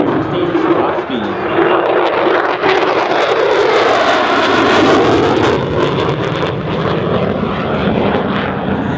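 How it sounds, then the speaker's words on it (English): A USAF F-16C Fighting Falcon roars past during a solo demo at an airshow in Avalon, its loud jet engine swelling and sweeping with a Doppler shift while an announcer talks over it. "it can be traveling at over 700 miles per hour, less than half the F-16's top speed."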